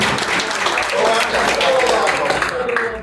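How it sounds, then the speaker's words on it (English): An audience at a teacher summit reception gives a speaker another round of applause, a steady, fairly loud wash of clapping lasting a few seconds. "let's give Dr. another round of applause, please"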